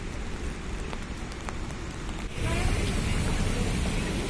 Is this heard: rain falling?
yes